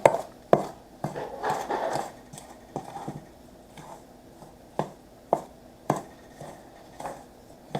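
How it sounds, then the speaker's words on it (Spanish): Tamale masa dough being mixed by hand with oil poured in: irregular slapping and pressing thumps, some sharp and some softer, close by with no talk. "Y le vamos a mezclar bien para que toda la masa tenga aceite"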